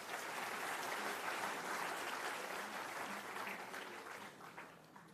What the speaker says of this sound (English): I think a bigger round of applause for him.